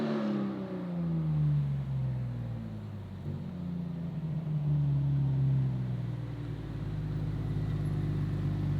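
A DeMan 4.5-liter GT3 Touring making 600 horsepower revs loudly while driving, its engine tone rising and falling smoothly through the gears for several seconds, heard close from inside with no voices.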